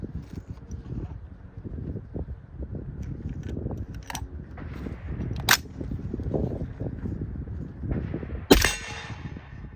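Rifle fitted with a Riflespeed adjustable gas system, its bolt failing to lock back after the last round, fires a few sharp cracks over steady low rumbling background noise, the loudest shot landing near the end.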